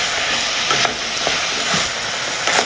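Mixed vegetables fry in a pan over medium flame, a loud steady sizzle with a few soft scraping stirs, no voices.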